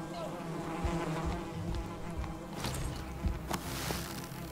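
Bees buzz in the Valheim video game, a continuous droning hum of several insects close by, steady throughout with small swells.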